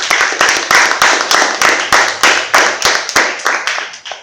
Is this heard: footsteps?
no